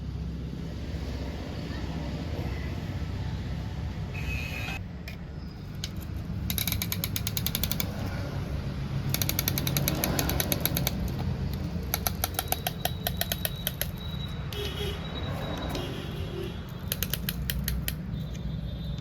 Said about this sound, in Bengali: পিস্টন ঠুকছি দেখুন, কত ইজিলি পিস্টন নামলো দেখুন।